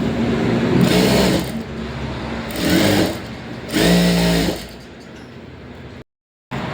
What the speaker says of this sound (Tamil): இந்த மாதிரி தான் நான் ஸ்டிச் பண்ணுவேன்